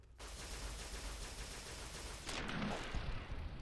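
Gunfire in Fallout New Vegas aimed at a centaur robot, a sustained dense volley of shots running the whole stretch, growing louder and rougher near the end with some impacts.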